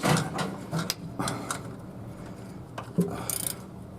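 A ratcheting box wrench works on the starter of a 1954 Chrysler New Yorker with a 331 cubic-inch Hemi, giving bursts of close mechanical clicking and clatter with short pauses between them.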